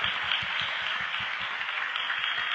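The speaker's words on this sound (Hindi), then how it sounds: "जोरदार ताली बजाएंगे प्रभु के लिए।" A church crowd at a Hindi Christian service claps loudly for the Lord, steady dense applause from many hands with a rhythmic low thump running through it, no talking.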